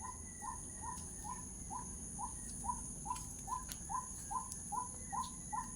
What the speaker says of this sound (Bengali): পাখির কি সুন্দর মিষ্টি আওয়াজ